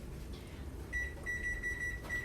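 A kitchen timer being set for six minutes gives a few short, thin electronic beeps over a low background hum, with no voices.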